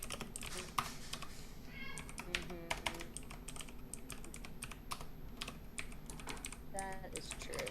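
Quick, uneven clicking of keys on a computer keyboard while coding, fairly close and soft, with brief bursts and pauses and faint background noise throughout.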